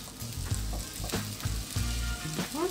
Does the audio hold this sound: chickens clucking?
no